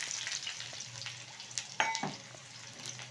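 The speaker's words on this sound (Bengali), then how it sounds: "তেলের মধ্যে দিয়ে দিচ্ছি কিছুটা তেজপাতা, দিয়ে দেব কুচিয়ে রাখা পেঁয়াজ" Bay leaf and chopped onion frying in hot mustard oil, a soft steady sizzle with a few sharper crackles and utensil taps, close but fairly quiet.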